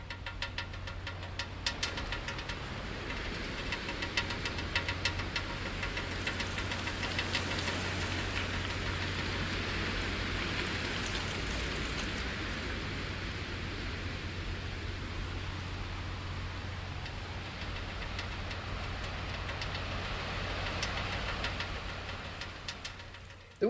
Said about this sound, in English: let's hear some wind